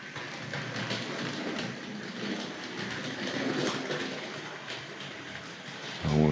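A Tri-ang RS.5 model goods train runs around its track, a steady close rumbling whir of the small motor with rapid wheel clicking over rail joints, ending in a brief louder clatter.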